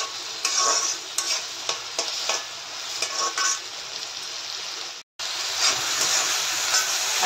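Okra fries in a hot pan with a loud, steady sizzle, broken by sharp scraping stirs in the first half and a brief cut before the hiss resumes strongly, close up and with no talk.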